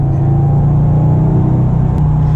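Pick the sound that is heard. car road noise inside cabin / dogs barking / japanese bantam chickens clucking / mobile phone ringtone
car road noise inside cabin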